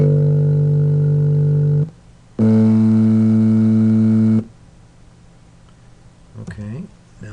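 Two sustained synthesized tones sound in turn, each holding for about two seconds with clear harmonics, followed by a brief burst of speech.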